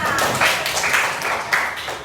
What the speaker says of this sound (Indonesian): Berarti Pina ya, tepuk tangan buat Pina.